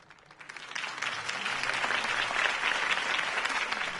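Crowd applause following a political campaign speech in Batman: The Telltale Series, clapping swelling from quiet to a steady dense roar of many hands, no talk over it.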